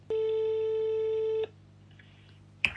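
A landline telephone call is placed: one steady tone rings for over a second and then stops, followed by quiet line noise and a faint click at the end.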